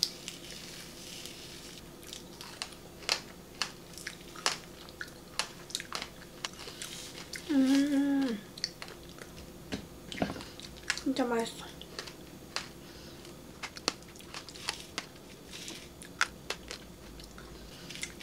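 Someone chews fruit drizzled with condensed milk, giving soft, moist, squishy bites up close in a slow, irregular rhythm, with a brief voice passing over the chewing.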